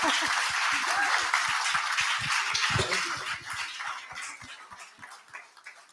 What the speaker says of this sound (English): How about another round of applause for Ruth?